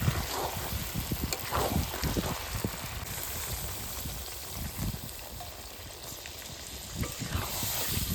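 Chicken pieces cook down in oil in a pan, sizzling in a continuous close hiss broken by occasional stirring scrapes and soft bubbling.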